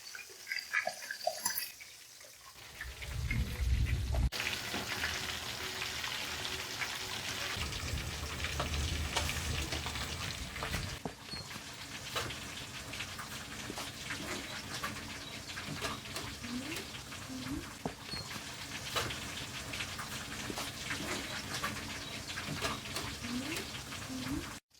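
Chicken for Lahori sajji frying in a pan, a steady broadband sizzle that carries on throughout at moderate loudness, with some louder bursts early and no talk over it.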